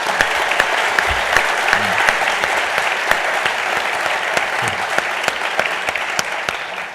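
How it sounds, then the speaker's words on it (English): An audience at an opening forum applauds the panelists with a sustained, fairly loud round of clapping, individual sharp claps punctuating the steady wash of sound throughout. "I think we should give them a round of applause."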